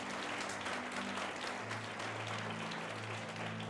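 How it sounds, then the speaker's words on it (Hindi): A church congregation claps loudly and steadily throughout, a dense, continuous wash of applause over a low background hum. "जोर से ताली बजाएंगे अगर"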